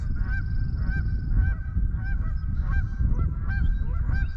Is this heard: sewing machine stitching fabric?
no